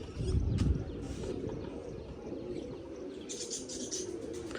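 Pigeons at a loft in their first days after being brought in, with a burst of low cooing or wing flutter near the start, then soft steady bird sounds and light chirps over background noise; no talk.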